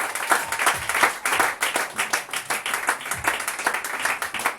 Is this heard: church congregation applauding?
yes